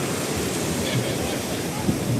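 Strong ground-swell ocean waves surging against the coast of Mexico, a steady loud wash of surf with wind noise across the microphone and no clear breaks.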